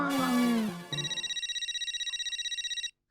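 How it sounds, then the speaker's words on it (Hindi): An electronic phone ringtone trills in a steady rapid pulse for about two seconds, following a brief burst of music and voice at the start. "अरे रूपा, कब से फोन लगा रहा हूँ तने, तू फोन क्यों नहीं उठा रही है मेरा?"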